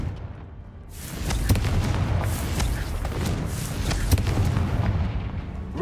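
Repeated Confringo spell blasts in Hogwarts Legacy, a sustained rumble of booming explosions with sharp cracks layered on top, loud and continuous.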